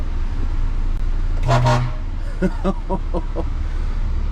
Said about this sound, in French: Tu peux lui foutre un coup de klaxon pour le faire flipper pour moi?